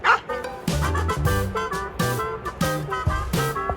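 Pet dogs barking during play at home, a loud, close, steady run of repeated yapping barks with almost no pause, little talk underneath.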